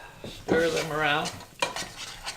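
A utensil stirring onions in a pot for chicken soup, with scraping and clattering strokes against the metal and a faint sizzle underneath, close by and alone.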